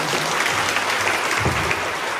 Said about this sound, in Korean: 그래서 큰 박수로 다시 한번 감사합니다.